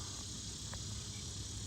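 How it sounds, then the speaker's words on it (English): Cicadas on a creek trail, a steady high buzzing drone that fills the background without a break, faint and distant under a low rumble of outdoor ambience. "The cicadas are here, right on cue."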